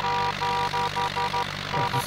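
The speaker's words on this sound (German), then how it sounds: "Die Hupe hört sich an wie so bei einem alten verschrumpelten Auto" Horn of a tractor in the farming game Landwirtschafts-Simulator 2011, sounding like an old car horn: a run of short, nasal, tonal honks in quick uneven succession, loud and close.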